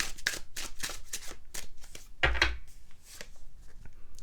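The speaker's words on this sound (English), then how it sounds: "let's draw a few more tarot cards" Tarot cards being drawn and shuffled during a weekly pick-a-card reading, a quick run of soft papery flicks and slides in an irregular rhythm, close and fairly quiet, with a slightly louder burst partway through.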